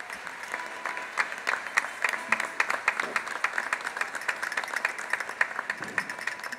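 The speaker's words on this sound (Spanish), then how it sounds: "Para ellos nuestro aplauso." An audience at a revived folk festival in San Bartolomé de Tirajana claps warmly and steadily, with dense, crisp hand claps and a few sharper accents throughout.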